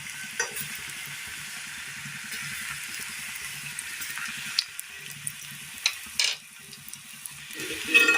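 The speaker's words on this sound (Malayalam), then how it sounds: "എണ്ണ ഒഴിച്ചു കൊടുക്കാം. ഇതിലേക്ക് ഓരോന്നായിട്ട് ഇട്ട് കൊടുക്കാം." Snacks frying in hot oil, a steady bubbling sizzle with soft clinks and scrapes of a utensil scattered through, close and moderately loud with no talking.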